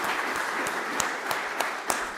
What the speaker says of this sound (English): I'd also like to extend a warm round of applause and thanks to the government of Rwanda